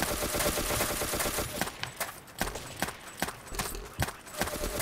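Dense, rapid video-game gunfire in Ace of Spades 2: a near-continuous crackling volley at first, then thinning into separate sharp shots and short bursts.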